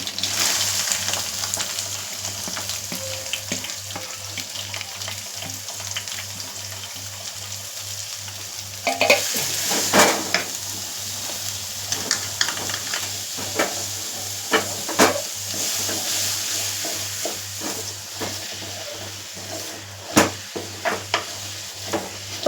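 Eight sliced big onions with two green chilies and curry leaves sizzle steadily in a pan, under repeated scraping and clanking stir strokes that grow more frequent later.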